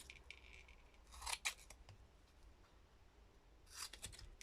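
Scissors snip through paper while assembling an Easter family mini scrapbook album, giving a few quick close cuts around one and a half seconds in and another brief burst near the end, over quiet room background.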